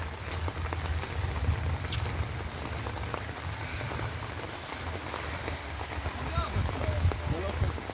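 Heavy rain falls steadily in a dense, even hiss with scattered drops pattering on surfaces nearby, continuous throughout, with voices talking quietly beneath it.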